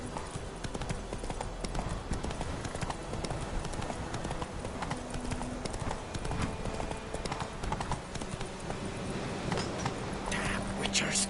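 Hooves of a horse galloping in The Witcher 3 game, a steady fast clip-clop rhythm running throughout at close range, mixed with game ambience and occasional voices talking.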